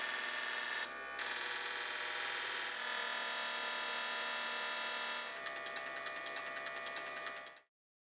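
Yamaha marine fuel injectors on a flow test bench, clicking in fast rhythmic bursts as the RPM range changes, with a steady mechanical hum beneath and a quicker, denser clicking toward the end before stopping abruptly.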